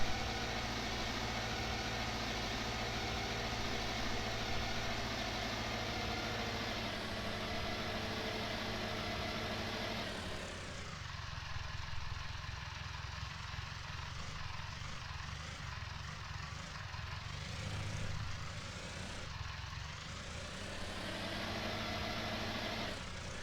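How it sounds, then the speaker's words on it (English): A small tractor in Farming Simulator 19 runs steadily, a continuous droning engine hum with a shift in pitch and load partway through as the machine works, with no talking over it. "I think it's a great little tractor."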